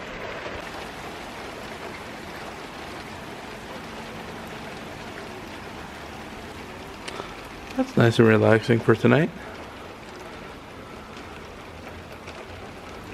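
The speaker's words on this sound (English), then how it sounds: "In the middle of cleaning, and we got some rain." Steady rain falling at night during heavy thunderstorms, a soft continuous hiss through the whole stretch, with a person briefly speaking close by partway through.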